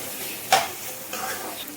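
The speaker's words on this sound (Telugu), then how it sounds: "మూత ఓపెన్ చేసి ఇదంతా బాగా కలుపుకోవాలి." A spoon stirs mutton curry frying in oil in a pot, giving a sharp scrape followed by a soft sizzle, close and fairly quiet.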